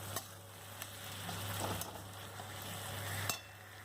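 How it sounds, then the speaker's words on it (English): Softened tomato being mashed with a spatula in a pan while cooking a masala fish curry, a steady soft sizzle with a few scraping strokes and brief clacks, close and continuous. "Now I mash with spatula."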